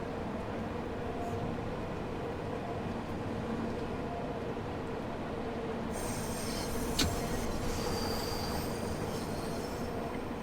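Bakerloo Line underground train pulling into Warwick Avenue platform in Train Sim World 2, a steady rumbling roll with bright wheel squeal joining partway, one sharp clank near the end.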